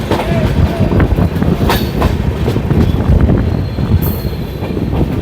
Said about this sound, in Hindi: तो पुरुषोत्तम एक्सप्रेस से हम लोग सफ़र करके पहुँचेंगे नई दिल्ली